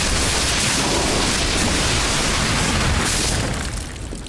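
A barrage of attack explosions from the action game Lies of P, heard as a dense roaring wash of blasts that holds steady for several seconds, then tapers off at the end.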